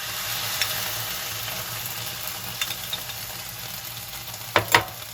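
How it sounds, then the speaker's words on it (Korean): Sausages and onion stir-frying together in a pan as sauce is poured in, giving a steady soft sizzle with faint scraping and a couple of louder stirring clatters near the end. "소세지와 양파를 함께 볶아주세요."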